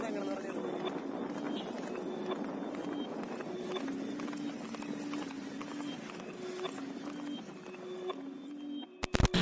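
Horse trotting along a road while a girl rides it to school, rhythmic clip-clop hoofbeats continuous under busy street noise, ending with a few sharp clicks.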